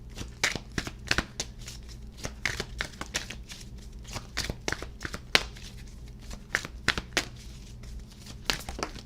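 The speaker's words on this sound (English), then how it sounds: "let's go ahead and pull your final oracle cards" Oracle cards being shuffled and pulled from the deck, a steady run of soft, quick papery flicks and riffles, close and fairly quiet, with no voices.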